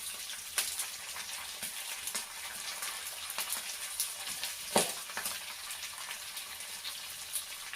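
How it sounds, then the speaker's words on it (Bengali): Potato and radish pieces fry in oil in a pan, giving a steady crackling sizzle with occasional sharper pops, close and moderately loud, with no voices. "আলু দিয়ে একটু ভেজে নিলাম, আলু আর মূলো দিয়ে"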